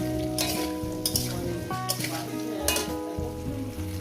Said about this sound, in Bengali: এবার এটাকে আমি দু মিনিট ভেজে নেবো